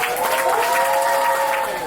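A dance studio recital audience claps and cheers in a dense, steady wash of applause with a few sustained whistle-like tones. It stays loud and even for the full two seconds, with no speech over it.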